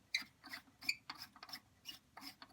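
A plastic sink drain stopper is twisted out by hand, giving faint, close scratchy rasps in short bursts of gritty plastic-on-plastic grinding.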